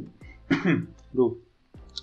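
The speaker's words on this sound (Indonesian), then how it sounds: "sorry aku batuk" Two short, throaty bursts sound close to the mic, like a brief cough or throat clearing, with a quiet stretch between them.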